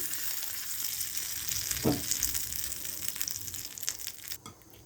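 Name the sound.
tempering sizzling in a pan for coconut chutney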